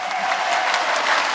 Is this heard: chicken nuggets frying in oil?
no